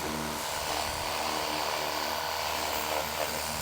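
A Fanttik K200 portable sprayer washer runs with a steady, close, even motorized whir and spray hiss, unbroken.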